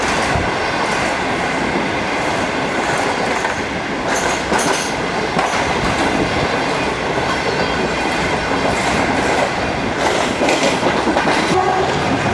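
The refurbished Pak Business Express train runs through an abandoned station near an airport, a loud, steady rumble and rattle of rolling cars with rhythmic clatter and brief sharper bursts throughout, no talk.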